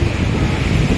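Steady roar of the Beas river flowing near Kullu during the Dussehra festival, a loud continuous broadband rush of water with no breaks and no voices.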